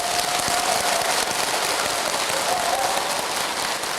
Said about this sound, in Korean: 어차피 박수 친 거 편집돼요, 여러분.